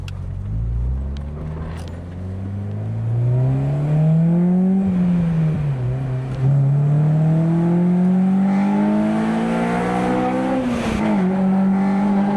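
A Honda Civic EP3 accelerates hard to overtake a Nissan Note, its engine note loud and close, climbing steadily in pitch with a brief dip around a gear change before rising again, with no talk over it.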